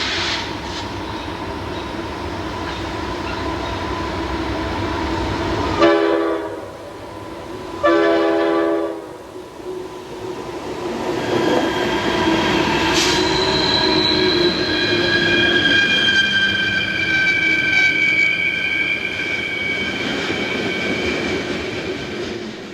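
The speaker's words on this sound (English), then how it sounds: "Ed caught his first coal train at Ingleside, West Virginia, with a nice combination of GE models for motive power." A heavy Norfolk Southern coal train hauled by GE locomotives, including a C36-7, rumbles past up close at Ingleside, West Virginia, with horn blasts, grinding wheels and squealing metal over a long, steady roar.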